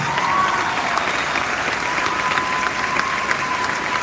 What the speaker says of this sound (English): so we can give you a loud round of applause